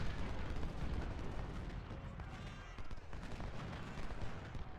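Artillery booms roll out in the Civil War strategy game Ultimate General: Civil War, a continuous, muffled barrage of overlapping cannon blasts and low rumble with no clear pause.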